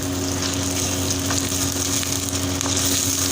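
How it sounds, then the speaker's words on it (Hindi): Whole spices fry in hot oil with a steady, close sizzle and crackle that continues without a break, no voices heard. "ये वाले मैं इसके साथ डाल दूँगी ताकि ये थोड़े से इसमें ऑयल में फ्राई हो जाएं।"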